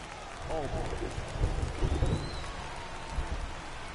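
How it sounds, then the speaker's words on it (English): Steady rain hissing down on a ballpark during a Padres versus Braves game in the video game MLB The Show 24, a continuous wash of drops with soft crowd-like murmur beneath and no clear talk. "This rain is not letting up."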